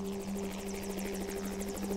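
A helicopter flies in a winter wolf-collaring setting, its rotor producing a steady, rapid chopping beat over a droning engine hum, fairly close and alone without speech.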